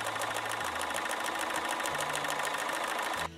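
A computerized sewing machine runs a cutwork tool through fabric, a fast steady mechanical whirring with rhythmic stitching pulses, close and constant before stopping abruptly near the end.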